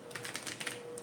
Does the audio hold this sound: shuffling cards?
yes